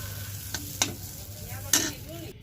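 Dal frying in a pan with dried red chilies added, stirred with a spoon: soft steady sizzle under a few sharp scraping clinks of the utensil against the pan.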